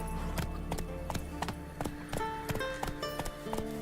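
Roach the horse's hooves clip-clop in The Witcher 3, a steady close walking rhythm of sharp hoof strikes over a low game-world ambience.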